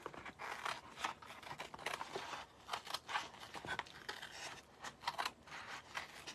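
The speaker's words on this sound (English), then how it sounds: "I'm just going to cut across here." Scissors cut across craft material for a Chalk Couture vintage truck box, a quiet series of crisp snipping and scraping strokes repeating unevenly, close up and alone.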